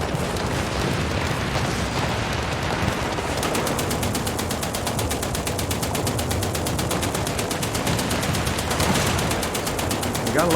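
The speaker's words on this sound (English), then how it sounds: "You gotta love the forward-facing firepower of a bunch of machine guns, though." Rapid machine gun fire from a tank's forward-facing guns in War Thunder, a fast, steady rattle of closely spaced shots that starts a few seconds in and continues loud and unbroken to the end over rumbling battle noise.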